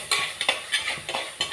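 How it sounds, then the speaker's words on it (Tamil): Onions sauté in a pan for a vanjaram fish curry, with rhythmic stirring scrapes and utensil clinks over a soft steady sizzle, close and moderately loud. "வெங்காயம் நல்லா வதங்கிடுச்சு."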